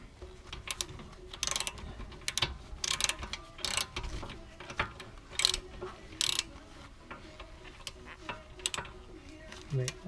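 Ratchet working a bolt loose on the brakes of a 2014 Honda Accord sedan, giving bursts of rapid clicking bunched into several runs, fairly close, with shop noise in between and no talk.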